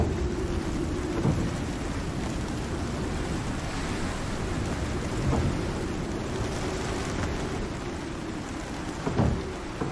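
A thunderstorm with heavy rain in the survival video game Icarus, set in a polar region: dense, steady rain noise with a few low thunder rumbles swelling and fading.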